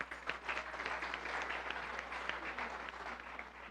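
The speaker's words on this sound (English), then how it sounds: "give yourselves a round of applause for coming today" A large audience at a morning speaking event bursts into steady, sustained applause, a dense wash of many hands clapping at moderate distance with no talk over it.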